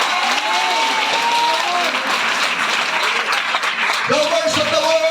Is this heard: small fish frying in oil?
no